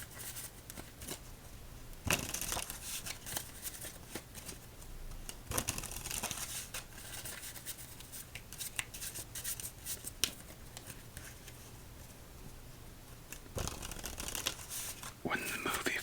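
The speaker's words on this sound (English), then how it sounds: "And let's shuffle up these cards." Playing cards riffle-shuffled up close in a quiet ASMR solitaire session, several soft papery bursts and flutters at intervals with light handling sounds between them.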